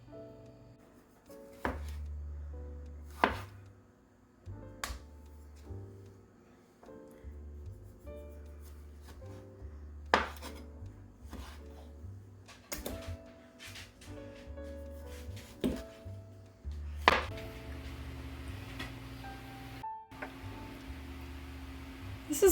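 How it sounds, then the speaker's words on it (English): Knife chopping washed tomatoes on a cutting board for pasta sauce, a slow series of sharp, close thuds spaced a second or two apart, with a busier patch of cutting near the end. "I'm going to get them chopped up and into the pot and get the pasta sauce going."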